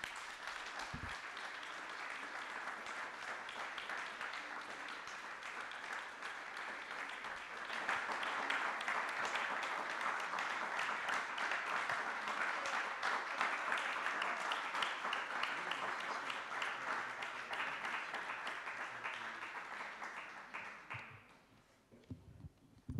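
Sustained applause from a lecture audience at an Italian talk on liberty, dense steady clapping that swells in the middle and keeps going for about twenty seconds before fading out quickly.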